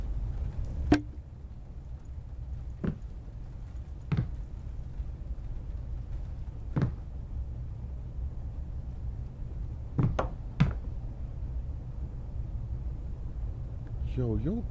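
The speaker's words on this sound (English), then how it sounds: "Who's knocking?" Sharp, isolated knocks sound in a horror video game, several single raps spaced irregularly with one quick double knock, all over a low steady ambient hum, with a brief voice at the end.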